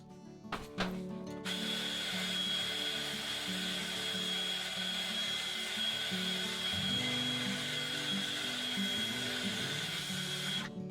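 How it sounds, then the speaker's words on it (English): A small handheld craft dryer blows on a freshly wetted Christmas craft piece before gilding: a few clicks as it switches on, then a steady, close, high-pitched whirring hum that runs unbroken until it cuts off. "I'm just going to dry that with the little dryer just to save some time"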